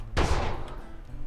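A Spas shotgun from a Minecraft weapons mod fires a single loud, close blast with a sharp attack and a ringing tail, fired at iron golems.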